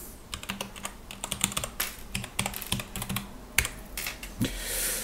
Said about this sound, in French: Donc, on va taper un password.